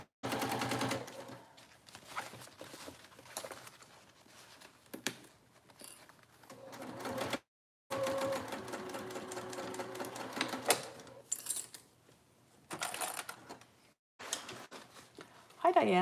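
A sewing machine stitches a packing pod in bursts of rapid mechanical whirring, starting and stopping several times with short pauses between runs, fairly close and moderately loud.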